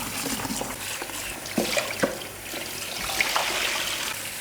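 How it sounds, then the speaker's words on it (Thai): Running tap water pours steadily over bird's-eye bitter melon as it is rinsed, with a soft continuous splash broken by a few louder splashes and clunks of handling, close and without talking. "มะละขี้นกผมก็จะนำมาล้างน้ำเปล่า ประมาณสัก 2-3รอบก่อนนะครับ"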